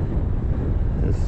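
Steady wind buffets the microphone beside the California Aqueduct, a continuous low rumble with no pauses across the short stretch and no voices over it.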